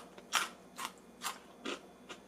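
Crunchy bites into air-fried french fries from a Philips Airfryer XL, five crisp crunches in a steady rhythm, close and fairly quiet with no talking.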